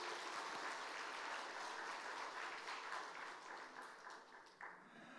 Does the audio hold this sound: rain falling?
no